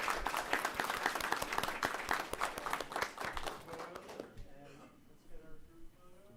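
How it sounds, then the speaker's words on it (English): Applause from the audience at a Board of Town Commissioners town hall meeting, honouring student winners from Hartford Day School: dense clapping for about four seconds, then fading into quieter room noise and faint voices. "round of applause for everyone"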